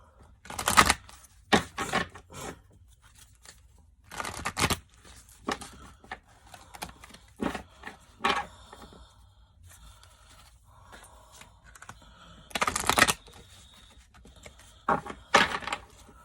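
Chakra oracle cards are shuffled in short, crisp bursts of papery riffling and tapping, spaced irregularly with quiet pauses between, close and fairly soft.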